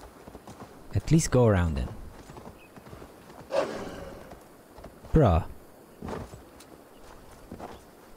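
A horse in the video game Assassin's Creed Valhalla clip-clops along with intermittent hoofbeats and a whinny, while a player talks over the movement.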